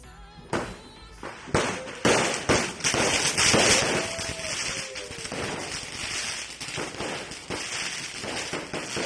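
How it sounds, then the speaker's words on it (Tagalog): Christmas fireworks display in Kidapawan City crackles and pops in rapid bursts, with sharp bangs and a few whistling rockets rising, loud and continuous throughout. "Mao kini ang gipaygayong fireworks display sa Kidapawan City atol sa sugat sa Pasko."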